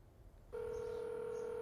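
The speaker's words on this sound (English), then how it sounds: "The dial tones and rings are constant for Michelle Juarez." A telephone line gives a short burst of noise, then a steady, clear electronic tone sounds at a constant level, close and clean, with no voices present.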